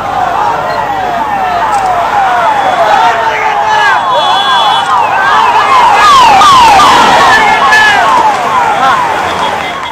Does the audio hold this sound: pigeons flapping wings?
no